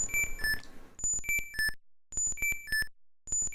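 Electronic text-message notification chimes from the King's Quest video game ring out in short repeated bursts of bright, clean tones separated by silences.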